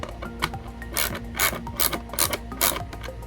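A ratcheting wrench tightens nuts on a third brake light mount for a 2018-2020 Honda Accord rear diffuser, with short repeated clicking bursts close by.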